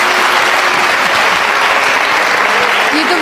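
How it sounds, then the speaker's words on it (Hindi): An audience at an Urdu poetry gathering claps in dense, continuous applause that fills the room at a steady, loud level from start to finish. "अरे तालियां मेरे लिए"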